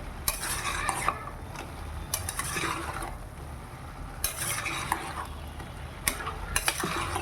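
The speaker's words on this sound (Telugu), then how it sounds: "ఈ ముక్కలకి మసాలా మొత్తం పట్టినట్టుగా బాగా కలుపుకోవాలి." A spoon scrapes and stirs country chicken pieces coated in masala for Palasa-style natukodi curry, making repeated loud clanks and scrapes against the pot over a soft sizzle.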